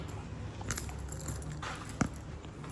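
Keys jangling in a bag while someone searches for them, a soft scattered metallic rattle with a sharper clink near the end, under steady room noise.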